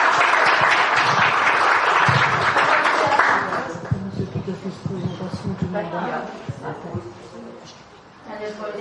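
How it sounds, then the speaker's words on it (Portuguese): An audience at a lecture workshop breaks into loud, dense applause that fades after a few seconds, leaving scattered claps, murmuring voices and a dog's yips and whimpers. "Uma salva de palmas para o Nascimento."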